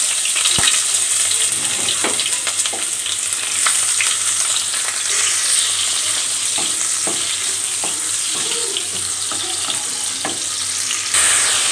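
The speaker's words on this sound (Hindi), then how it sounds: "तो अनियन सौते करते हैं।" Onions sauté in a tablespoon of hot oil in a pan, giving a loud, continuous, close-up hiss and crackle with a few scattered stirring clicks, and no one speaking.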